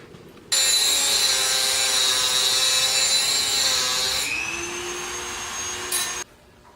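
Dremel rotary tool cutting into a motorcycle lowering link for a 2018 Suzuki V-Strom 1000, a steady high-pitched whine of grinding that drops in pitch partway through under load, then cuts off.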